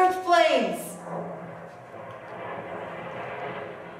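A stage sound effect of search planes flying overhead: a loud descending whoosh opens, then a steady droning engine rumble carries on, with people talking over it.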